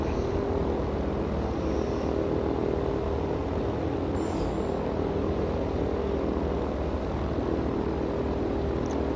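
Piston engines of a B-17G Flying Fortress bomber in World of Warplanes run at full boost, a dense, steady roar that fills the whole stretch with no break and no voices.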